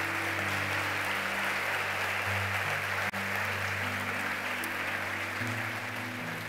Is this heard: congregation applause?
yes